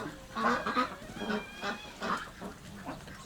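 A flock of ducks honks and quacks continuously, a busy overlapping chorus of calls at moderate distance.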